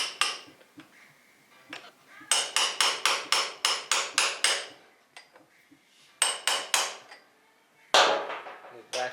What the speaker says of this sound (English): Try to hammer it down.